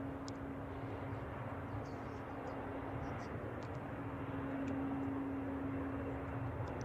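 An Alaska Airlines jet at San Francisco Airport produces a steady, distant engine roar with a sustained low hum as it moves toward departure, continuous and fairly faint throughout.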